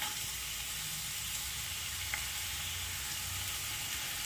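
Finely chopped medium onion sizzles in hot coconut oil in a kadai for a chicken curry, a steady, dense hiss that stays even throughout, close and alone without any voices.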